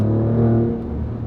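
Deep V6 engine note of an Alfa Romeo Giulia Quadrifoglio revving briefly, rising then dropping in pitch as it shifts down, loud and close.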